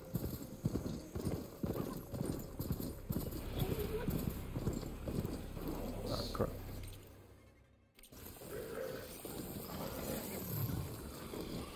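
Horse hooves clip-clop in the video game Horizon Forbidden West, a steady trotting rhythm close up that fades out briefly and then resumes, with a voice talking over it.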